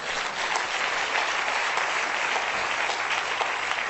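A church congregation at a prayer service breaks into loud, sustained applause, a dense wash of many hands clapping steadily at close range with no talk above it.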